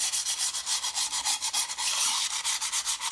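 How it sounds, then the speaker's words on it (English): Rhythmic back-and-forth sanding scrape, hand-scuffing a surface to roughen it before gluing on a DIY dessert pedestal; steady, close strokes roughly every quarter second with no talking. "we need to sand this down just a little bit, just to roughen it up just a little so it will stick better"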